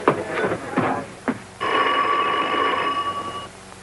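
A telephone bell rings with a sustained metallic trill in an old film comedy, starting after a few short knocks and rustles and holding steadily for about two seconds, fairly close and loud.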